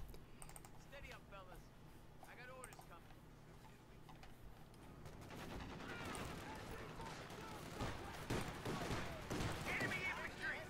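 An M15 half-track opens fire on Grenadiers in Company of Heroes 2. Rapid bursts of automatic gunfire build up and grow louder in the second half, mixed with other battle noise under a commentator's steady talk.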